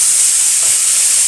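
Salted, turmeric-coated prawns fry in hot mustard oil with a loud, dense, unbroken hiss that holds steady throughout, close by and with no one talking.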